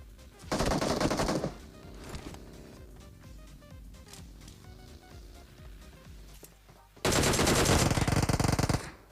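Automatic gunfire in the PUBG Mobile shooter game, two loud rapid bursts of rattling shots separated by quieter game ambience and mechanical clatter.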